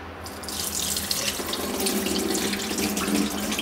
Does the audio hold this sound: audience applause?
no